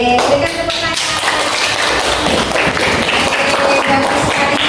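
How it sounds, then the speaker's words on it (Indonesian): Classroom of students clapping together, a dense patter of many hands at close range, steady for several seconds with faint voices mixed in. "Baik, berikan tepuk tangan."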